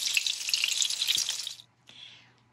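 Pork cutlets fry in a pan on a stovetop at medium-high heat, a loud, close, crackling sizzle that suddenly stops, then a fainter sizzle that fades out.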